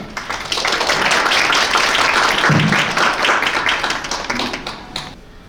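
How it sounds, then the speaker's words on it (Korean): An audience at a Korean city cooperation meeting applauds warmly to welcome the Hwaseong vice mayor, a dense burst of clapping that swells quickly, holds steady for several seconds, then thins out and fades. "큰 박수로 조승문 부시장님을 모시겠습니다."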